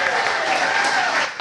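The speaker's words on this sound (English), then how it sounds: "You can applaud for a tiebreaker round" A trivia game-show audience applauds a tiebreaker round with a short, dense burst of clapping that cuts off after about a second and a half.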